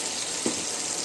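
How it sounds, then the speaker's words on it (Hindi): Tomato puree frying for Hyderabadi chicken 65 masala, a steady dense sizzle over low heat, close and even, with no one speaking. "फ्लेम को लो करके अच्छी तरह से इसको भून लीजिए।"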